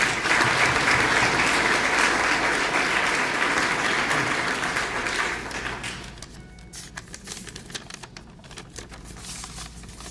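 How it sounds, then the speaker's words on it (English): An audience claps for a high school student called forward at an entrepreneurship program event: a full, loud burst of applause for about five seconds, then thinning into scattered claps as it dies down. "Let's give him a round of applause."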